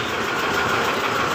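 Mitsubishi Strada Triton GLS engine idling roughly, with a steady fast tak-tak ticking knock under the running noise, close and continuous.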